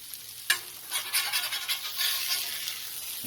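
A smash burger patty sizzles loudly on a hot flat griddle, a steady crackling hiss with a sharp scrape of a spatula near the start and no talking.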